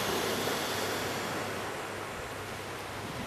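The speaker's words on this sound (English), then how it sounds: "As you make the sound of the ocean with your breath, keep that up." Steady, breathy rushing like distant surf from ujjayi pranayama breathing, a continuous airy hiss through the throat with no pauses or voices, moderately loud throughout.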